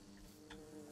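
Bees in the Minecraft video game give off a faint, steady insect-like buzz that hums low and continuously for a moment, with no talking over it.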